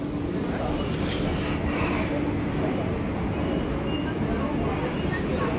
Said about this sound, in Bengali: এটা হচ্ছে তো আমাদের শিয়ালদা মেট্রো, আশা করি চেনো সবাই